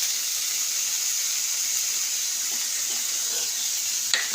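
Whole spices frying in hot oil in a pan for a vegetable daliya, giving a steady, even sizzling hiss that holds throughout with no talking.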